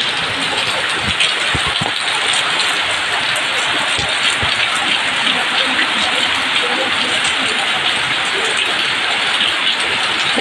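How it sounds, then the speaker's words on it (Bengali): Steady, dense rain falling at a temple, a loud continuous hiss of drops with scattered sharper patters close by, unbroken for the whole stretch. "দেখো কিভাবে বৃষ্টি হচ্ছে"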